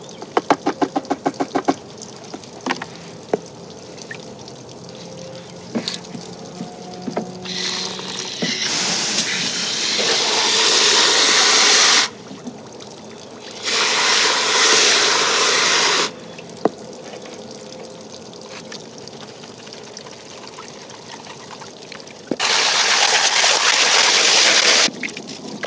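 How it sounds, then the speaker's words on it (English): Water is poured into gold pay dirt for gold panning, rushing in several long, loud bursts separated by quieter stretches of trickling and small splashes, with no talking. "And just pour it all in there."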